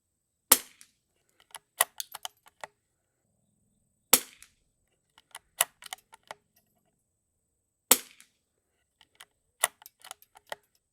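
Sharp, loud cracks from a vintage rimfire rifle fired downrange in a shooting challenge, coming in three quick strings of several shots each, every string led by one heavy report and followed by lighter snaps, with no talking.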